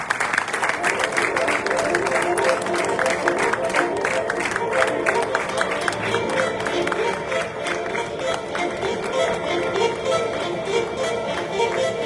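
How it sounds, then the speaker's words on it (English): A large audience applauds steadily through the whole stretch at a Rotary club installation ceremony in Surat, the dense clapping loud and sustained, with a faint whistle-like tone near the start. "Please give him a big round of applause."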